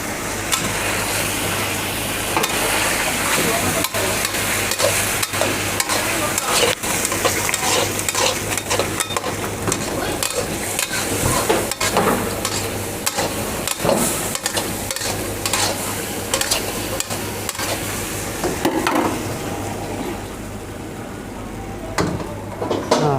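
Rice-field crabs are stir-fried with curry powder in a hot pan, a constant loud sizzle broken by frequent scraping and clattering strokes of the spatula, with no voices over it.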